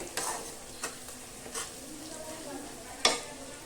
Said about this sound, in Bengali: 1 চামচ লাল লঙ্কার গুঁড়ো আর 1 চামচ হলুদ গুঁড়ো নিয়েছি, এটা আমি এই তেলের উপরই দিয়ে দেবো।